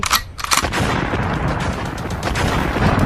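Rapid gunfire in a video game, shot by a gun-headed Siren Head creature: loud sharp bursts at the start, then a dense, continuous crackle of shots with no talk.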